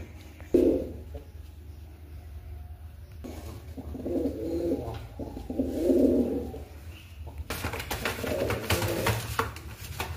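Silva Siraj fancy pigeons with 36-feather tails and white eyes give soft, low cooing phrases, several in a row, quiet against a faint background hum.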